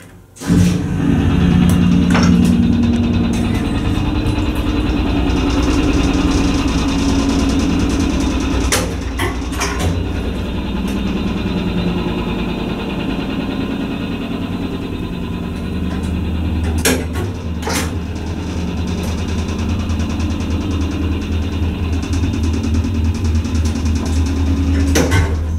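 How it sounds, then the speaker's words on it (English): A vintage rotary piston pump hydraulic elevator motor runs continuously with a low, steady hum and rhythmic mechanical throb, punctuated by a few sharp clunks and knocks from the machinery, close and fairly loud. "Let's see how the motor sounds on this one."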